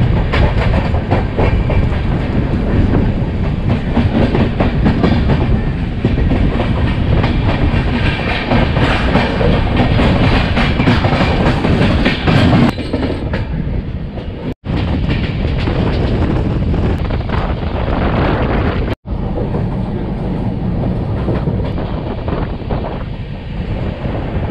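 The Sealdah Rajdhani Express runs fast on rails near Durgapur, a loud continuous rumble with rattling wheel clatter and heavy wind buffeting, briefly cut by two sharp dropouts near the end, no voices.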